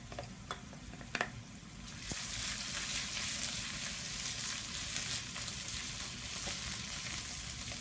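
Prawn roast masala with crushed ginger, garlic and green chili sautéing in a pan, a faint start then a steady loud sizzle and frying hiss from about two seconds on, with a few sharp scraping and stirring clicks early.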